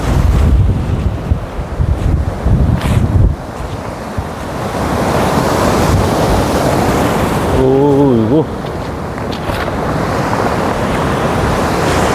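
Sea waves wash onto the shore at Yeongdeok on the Korean coast, a loud, continuous roar of surf with wind buffeting the microphone and a brief voice partway through.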